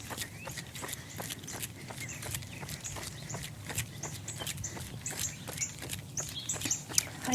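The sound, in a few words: birds singing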